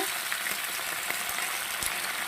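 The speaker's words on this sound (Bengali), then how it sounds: "এবার সব মিলিয়ে আবার নাড়াচাড়া করে আমি একটু ঢাকা দেব" Vegetables with tomato, green chili and bori are stirred in a hot pan, producing a continuous soft frying hiss with faint scraping knocks from the stirring and no talk.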